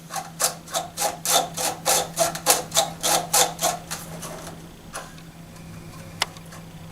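Ionizer tube being screwed by hand into its socket like a light bulb, giving about a dozen quick rhythmic rasping ticks close up, then a few faint isolated clicks near the end.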